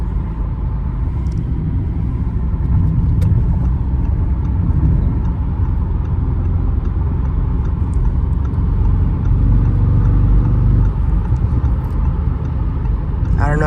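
Audi RS7 Performance with a 605 hp engine cruising on the road, heard from inside the cabin as a steady, loud low rumble of engine and tyre noise that holds level throughout.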